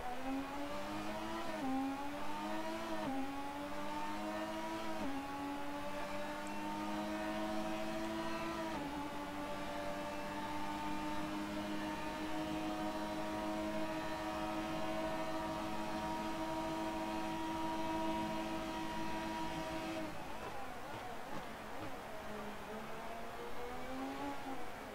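A 1988 McLaren racing car engine screams through repeated gear changes while lapping the Mexico circuit in a racing video game, the revs climbing and dropping in a loud, continuous run with no voices.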